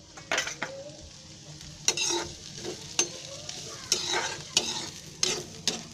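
Chopped masala roasts in a pan while a spoon stirs and scrapes it, with repeated sharp scraping strokes over a soft, steady sizzle.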